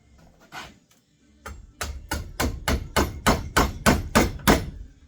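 Hammer blows strike an electric clutch as it is taken apart. There are two early taps, then about ten hard metallic whacks in a quick, even rhythm, loud and close.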